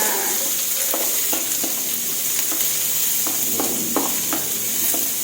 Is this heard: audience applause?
no